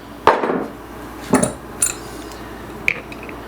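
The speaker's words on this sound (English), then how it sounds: "I'm going to take my easy out, stick it in the hole, and set it with the hammer." A hammer sets an easy out into a hole drilled in a brass plug on a dual 38 Mikuni jet ski carburetor: four sharp, close metallic taps at uneven intervals over a quiet background.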